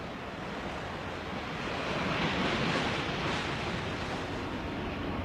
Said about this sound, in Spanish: Observa el viento que arrecia y el mar que se encrespa